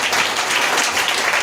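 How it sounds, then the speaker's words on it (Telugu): A church congregation claps loudly and continuously, a dense wash of many hands close by. "గట్టిగా చప్పట్లు కొట్టు"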